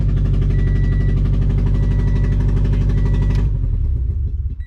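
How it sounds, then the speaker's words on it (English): A car fitted with new FTSpeed unequal length headers idles loud and near, with a rhythmic, lumpy exhaust pulse and a possible exhaust leak, then the engine note drops away as it shuts off. "Now we just gotta get the car started"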